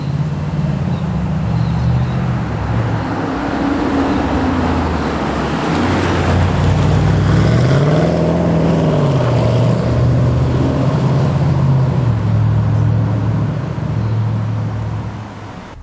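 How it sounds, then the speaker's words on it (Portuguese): A steady, deep engine drone from a Range Rover Sport SVR with its exhaust valve opened by button, pitch rising and falling as the motor revs, continuous and fairly loud throughout. "o som que você liga, aciona através desse botãozinho do escape"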